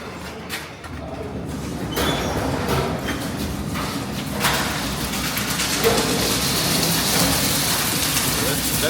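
A coffee processing machine in Papua New Guinea runs loaded with coffee beans, giving a steady, dense rattling wash of tumbling beans over a continuous mechanical rumble, with a voice talking faintly underneath.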